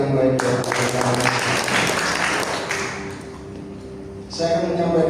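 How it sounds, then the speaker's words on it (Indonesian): A church congregation at a Sunday service breaks into applause, a dense burst of clapping that tapers off and fades, then picks up again briefly at the end amid room noise. "Bisa berikan tepuk tangan yang baik buat Allah."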